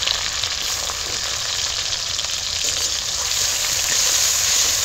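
Crushed ginger, green chili and tomato sizzle steadily in hot oil for a vegetarian aloo chop filling, a loud, even frying hiss that runs without a break and rises slightly toward the end.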